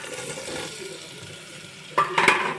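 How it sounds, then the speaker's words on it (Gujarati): Khichdi ingredients being mixed in a pot give a wet, sloshing stir, quiet at first and then a few louder clatters and splashes toward the end, no talking. "હવે આપણે બધું મિક્સ કરી લઈશું"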